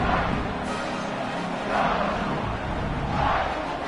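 A large crowd at a North Carolina vs Oregon college football stadium roars and cheers continuously, a loud, broad wash of voices that swells in waves without any distinct single speaker.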